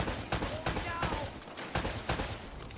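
Gunfire in Uncharted: Drake's Fortune: a steady run of about eight sharp, evenly spaced shots, loud and close over a dense combat background, with someone talking over them.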